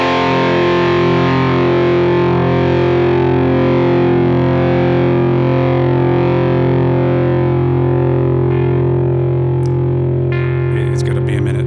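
Electric guitar played through a Helix pedalboard with the compressor and other effects switched on, a distorted chord ringing out and sustaining loudly and steadily, slowly fading near the end.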